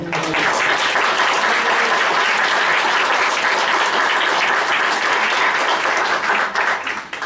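Sustained applause from attendees at a college board of trustees meeting after a vote, dense even clapping throughout that tapers off at the very end.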